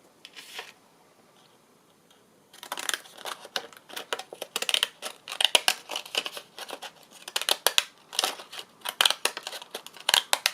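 Decorative scissors snip repeatedly through paper in quick bursts of crisp cuts after a short quiet pause, close and fairly clear.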